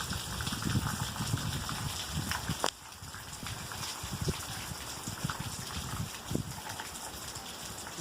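Rain comes down over a farm field of green grass as a quiet, continuous wash, with irregular patters and drips and one sharp tap partway through.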